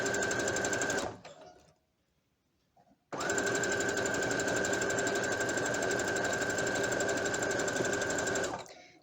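Domestic sewing machine stitching thick, fluffy blanket fabric for a house robe, running in a steady loud whir for about a second, pausing briefly, then resuming for a long continuous close-up run with no voices.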